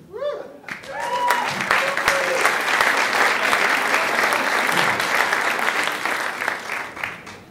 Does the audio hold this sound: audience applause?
yes